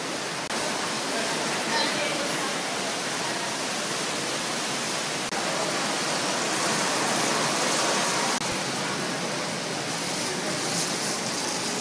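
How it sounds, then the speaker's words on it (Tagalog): Indoor waterfall water features inside Burjuman mall in Dubai rush in a steady, broadband splashing roar that fills the space evenly and continuously, with voices faintly mixed underneath. "they have water features here"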